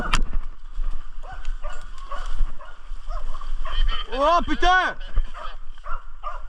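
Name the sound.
hunting dog barking at a wild boar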